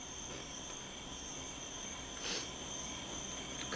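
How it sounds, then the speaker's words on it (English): Crickets chirping at night, a continuous high, steady trill that stays faint and even throughout, with a soft low background hum and no talking. "Crickets."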